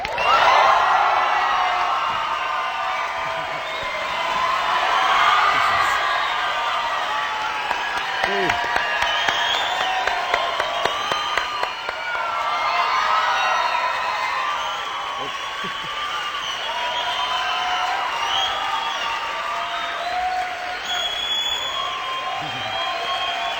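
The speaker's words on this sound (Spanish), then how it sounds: "denle un fuerte aplauso a Gustavo Cerati" A television studio audience applauds and cheers for Gustavo Cerati, with sustained crowd clapping and whoops continuing for over twenty seconds and a voice talking over it at times.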